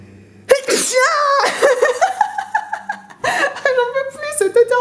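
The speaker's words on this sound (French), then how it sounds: "J'en peux plus cet éternuement." A sudden loud sneeze bursts out, followed by breathy, laughing vocal sounds and a second sharp outburst.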